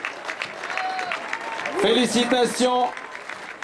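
An outdoor crowd in Lausanne claps at a Tour de Romandie cycling podium ceremony, a moderate, steady spatter of applause under an announcer's amplified voice speaking French.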